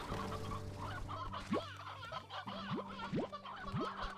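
Chickens in the video game Slime Rancher 2 cluck repeatedly in short rising calls, close and moderately quiet, over a soft game background hum with no talking.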